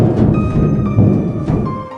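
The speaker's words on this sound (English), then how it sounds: "And this is the sound that plays when Springtrap has made it through a vent." FNAF video game cue that plays when the animatronic Springtrap makes it through a vent: a steady droning, rumbling texture with faint metallic scraping, holding at an even level for about two seconds with no speech.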